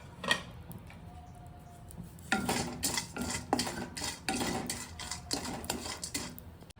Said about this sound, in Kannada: ಓಟ್ಸನ್ನು ಕೂಡ ನಾನು ರೋಸ್ಟ್ ಮಾಡ್ಕೊತಾ ಇದ್ದೀನಿ